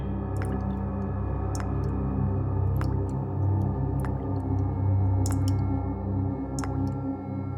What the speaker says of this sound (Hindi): कुछ टपकने की आवाज आ रही है ना?